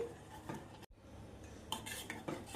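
A spoon stirs milk into a cooking malai cake mixture in a pot, soft clinks and scraping strokes close by, fairly quiet with a brief pause partway.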